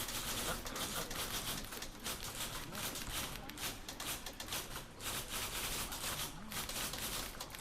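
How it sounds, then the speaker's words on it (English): Typewriters clacking in the video game The Beginner's Guide, a fast irregular stream of sharp mechanical taps that is fairly faint and runs steadily throughout. "Oh my god, are they typewriters?"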